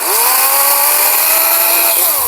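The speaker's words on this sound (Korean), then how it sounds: "한 15초 정도 만에 이렇게 굵은 나무를 잘랐습니다" A pruning saw cuts through a thick branch of a 40-year-old apple tree, a loud, close, continuous whining buzz that holds steady, then drops off at the end.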